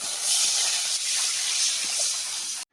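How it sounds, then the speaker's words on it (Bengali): Water is poured into a hot wok holding fried greens and prawns for a jute-leaf prawn curry, and it gives off a loud, continuous steamy hiss that lasts a couple of seconds, with no talking, before cutting off. "শাকের ঝোল করার জন্য পরিমাণ মতো জল দিয়ে দেব কড়াইয়ে"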